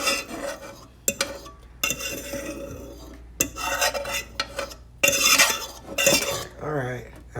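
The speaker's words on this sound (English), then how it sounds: "Shaking my colander a little bit, just help drain" A small colander of cooked meat standing on the stove is shaken to drain off oil for a ramen noodle casserole, giving close, intermittent bursts of metallic rattling and clinking separated by short pauses.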